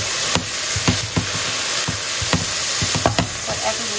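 Cauliflower rice frying in a pan as soy sauce goes in, a loud steady sizzle broken by repeated scraping stir strokes, close up with no voices.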